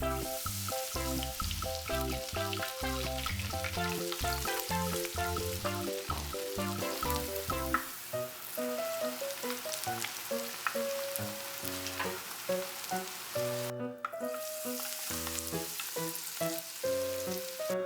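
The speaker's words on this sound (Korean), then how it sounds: "식용유 250ml 를 넣고 튀겨주세요." Crown daisy deep-fries in 250 ml of cooking oil, giving a dense, continuous crackling sizzle close by with bursts of popping and a brief stir or clatter, and no one talks.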